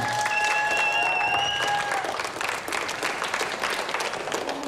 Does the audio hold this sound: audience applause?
yes